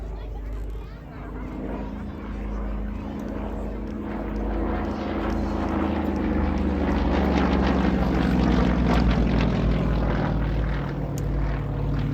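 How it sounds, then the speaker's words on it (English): A Yak-52 aerobatic aircraft with a radial engine flying an aerobatic display with smoke on, its steady propeller drone rising and falling as it passes, under a commentator's voice. "We got smoke on, and here comes Glenn Graham and the Yak-Fifty-Two"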